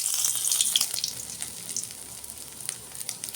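Bay leaves and dried chilies sizzle in hot oil for a cabbage dish, a soft, steady crackling fry heard alone and fairly close for a few seconds.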